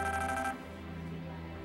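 A telephone ringtone chimes clearly for about half a second with bright repeating tones, then cuts off, leaving a low hum of room tone in an indoor drama scene.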